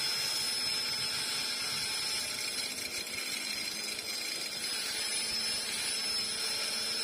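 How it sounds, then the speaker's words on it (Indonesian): A grinder cuts into the welded steel casing of a Polytron inverter refrigerator compressor, giving a steady, high, whining buzz with a hiss under it that runs without pause. "diperlukan mesin gerinda dan lakukan penggerindaan"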